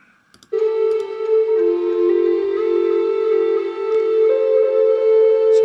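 After a brief quiet moment, music starts with a steady, sustained electronic tone that holds at the same loudness and shifts pitch slightly near the end.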